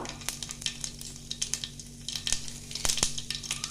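Black mustard seeds and a chili crackling in hot oil for masala dosa, a steady close sizzle with sharp scattered pops and spits throughout.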